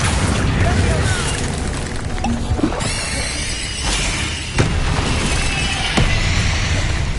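Spell blasts in Hogwarts Legacy, including Confringo and Bombarda, set off several booming explosions and pops amid busy combat noise, loud and close, with a voice talking over parts of it.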